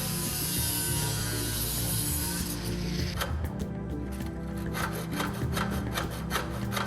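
A composite cable tray being cut through, heard as a steady abrasive grinding and rasping that continues the whole way, turning into a rapid, rhythmic sawing rasp partway in, close and loud, with no voices.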